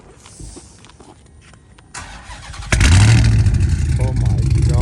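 A Dodge Hellcat Redeye fitted with cat-less exhaust pipes growls at idle, then a sudden loud rev at close range swells into a sustained roaring engine drone, with people's voices faintly in the background.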